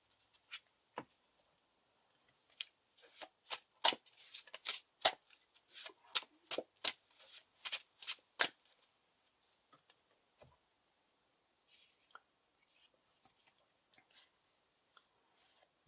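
Playing cards in a card game being shuffled and searched, a quick run of crisp riffs and snaps close up, then scattered soft clicks and flicks that thin out toward the end.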